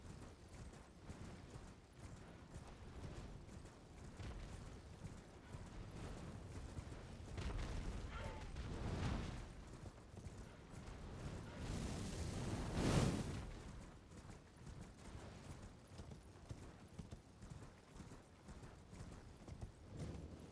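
A horse gallops through Elden Ring terrain, hooves clip-clopping in steady rhythm at low volume, with a swell of rumbling effects midway.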